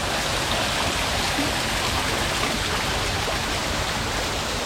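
A constant, dense rush of falling water from a waterfall feature at a forest cafe in Chiang Mai fills the scene, loud and steady with no breaks.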